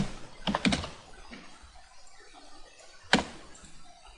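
A few quick clicks on a computer keyboard come in a short cluster, then a single keystroke follows after a pause, close and fairly quiet against a hushed room.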